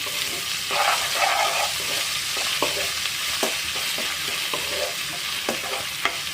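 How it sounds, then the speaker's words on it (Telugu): Ginger garlic paste sizzles steadily in hot oil for an ivy gourd fry, with a constant crackling hiss broken by occasional sharp pops and spoon stirs. "అలాగే 1 టీ స్పూన్ వరకు అల్లం వెల్లుల్లి పేస్ట్ వేసుకొని పచ్చి వాసన పోయేంత వరకు ఆయిల్లో ఇలానే ఉడకనివ్వండి"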